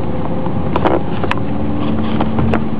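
A Volvo S80 D5 car accelerates in manual mode with a steady engine drone and heavy wind rush, with a few sharp clicks and knocks from the cabin.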